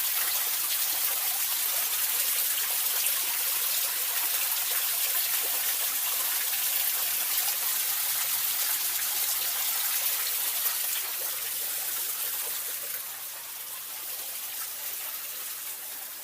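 Water pouring steadily from a downspout or hose in a yard, a continuous close hiss and splash that eases slightly toward the end, with no voices.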